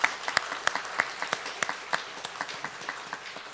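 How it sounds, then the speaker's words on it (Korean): A church congregation breaks into applause during a Sunday morning service, steady claps ringing out for a few seconds at moderate distance with no talking. "우리 그동안 수고했던 공윤 집사님과 또 앞으로 섬기게 될 신규섭 집사님을 위해서 박수로 한번 축복하도록 하겠습니다."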